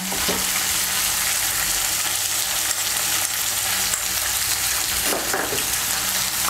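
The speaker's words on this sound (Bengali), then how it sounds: "আদা বাটা আর কাঁচা লঙ্কা বাটাটাকে ভালো করে মিশিয়ে নেব আলু আর শিমের সঙ্গে।" Ginger and green chilli paste is stirred into frying potatoes and flat beans in a pan for a winter vegetable curry. A steady close sizzle runs throughout, with a couple of louder scraping stir strokes near the start and end.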